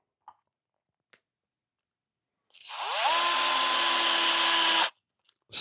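A power driver spins up and runs steadily for about two seconds, driving a screw into an RC car chassis, with a rising whine that holds at a constant pitch before cutting off, close by and otherwise quiet.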